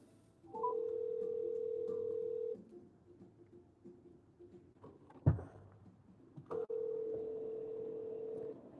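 A phone call's ringback tone plays two long, steady beeps separated by a pause, with a brief click between them, in an otherwise quiet room.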